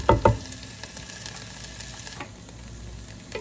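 Onions and garlic sizzle in a Ninja Speedi, a soft steady frying hiss with a couple of louder clatters at the start, close and continuous.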